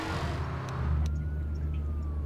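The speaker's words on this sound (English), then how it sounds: "I hear a police siren." Police siren in the Garry's Mod video game, a faint wailing tone sweeping up and down in the background behind a low rumble of traffic or engine noise, with no talking.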